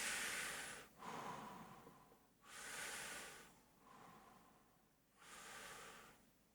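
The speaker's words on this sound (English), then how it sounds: "Breathe it in 3 times to your mouth." A group of people drawing three slow, deep breaths in through the mouth during a guided meditation, each long airy inhale separated by a brief pause, soft and fairly close.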